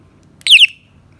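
An IAT alarm torch in strobe mode gives one short, piercing electronic chirp, loud and alone against near silence.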